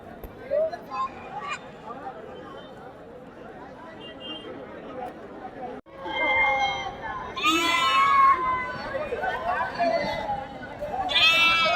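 Goats bleat at a livestock market in Pebbair, several wavering cries rising over busy crowd chatter and people talking nearby, louder in the second half.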